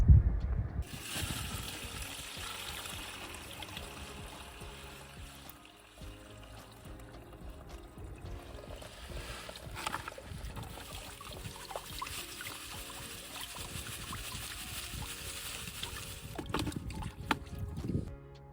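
Fermented activated biochar liquid being strained by hand outdoors, a steady trickling and pouring of water running continuously for the whole stretch, fairly faint and close, with occasional louder splashes and knocks near the end.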